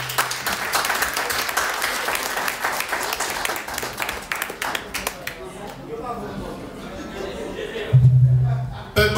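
An audience at an evangelical church service applauds loudly with dense clapping that gradually thins out, followed by a low hum and a few scattered claps.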